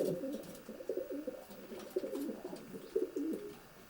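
Racing pigeons inside a Scottish loft coo continuously in low, overlapping murmurs, with a dense bubbling chorus at close range and no talking.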